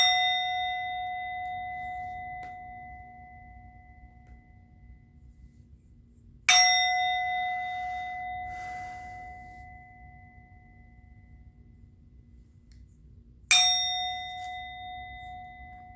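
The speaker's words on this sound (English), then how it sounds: "I'm going to ring the bell." A resonant metal bell is struck three times at roughly seven-second intervals, each bright clang ringing out and slowly decaying in a quiet room.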